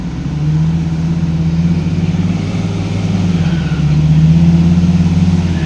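An empty dump truck's diesel engine drives out through slippery, muddy ground, a steady mid-low rumble that swells and eases as it moves, fairly close with no talking.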